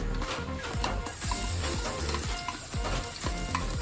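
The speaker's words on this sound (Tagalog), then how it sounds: "ilagay natin ang garlic" Garlic sizzles and crackles in hot oil in a pan, with a steady frying hiss and occasional stirring scrapes, close and continuous with no voices.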